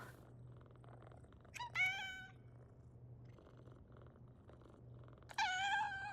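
A cat in a PowerWash Simulator 2 game scene gives two short meows over a faint, steady low purr-like rumble, quiet and close.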